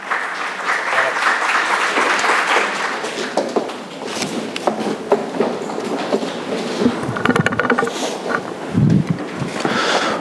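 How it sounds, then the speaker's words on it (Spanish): An audience applauds to welcome a speaker from Argentina at a presentation. The clapping is a dense, steady roar that lasts about ten seconds, with a brief dip midway and a few louder claps near the end. "Con un fuerte aplauso recibamos desde Argentina a don Ignacio Blas Codina."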